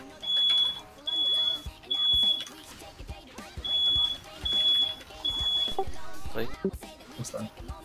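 A smoke alarm in a house sounds a loud, repeating high-pitched beep: short bursts in two clusters of three, over a busy background of game sounds and voices.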